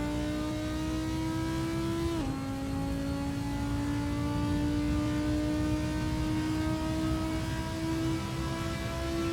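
An Audi R8 GT4 race car engine in Assetto Corsa on the Imola circuit, a steady loud tonal drone that drops briefly as a gear shifts, then climbs smoothly in pitch under continued acceleration.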